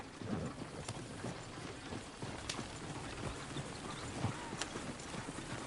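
Steady clip-clop of horse hooves plodding along in the video game Red Dead Redemption 2, amid a rainy, hissing background, with occasional sharper knocks.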